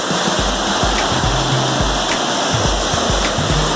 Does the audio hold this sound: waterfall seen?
yes